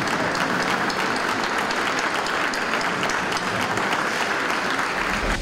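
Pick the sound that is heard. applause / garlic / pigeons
applause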